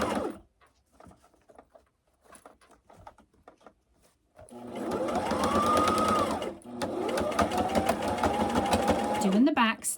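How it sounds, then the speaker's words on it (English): A home sewing machine stitches straight off the edge of a quilted padded zipper tablet bag, whirring in two long close runs with a pitch rise and fall, after a stretch of quiet handling clicks. "I'm just going to sew straight off the edge here"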